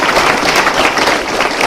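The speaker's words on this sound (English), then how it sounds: "please, a round of applause for them." A crowd of parents, guardians and family members at a police explorers awards and promotion ceremony breaks into steady, dense applause, many hands clapping at once throughout the moment.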